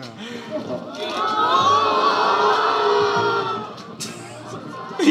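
A crowd cheers and shouts together in a sustained roar, with excited whoops rising and fading near the end.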